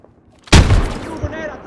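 A thrown grenade in the military shooter Squad detonates with a sudden loud, close boom, then a rumbling decay and a faint ringing tail after a brief quiet lead-in.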